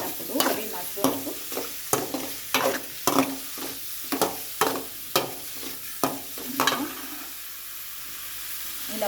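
Mushrooms frying in a pan with turmeric and ghee, with regular spoon scrapes and clatters against the pan over a soft sizzle, close and fairly even in rhythm.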